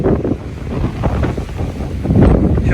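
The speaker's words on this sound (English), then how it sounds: "hopefully we'll get out of this wind a little bit" Strong wind at the Grand Canyon buffets the microphone in loud, gusty rumbles that swell and fade, with no other sounds standing out.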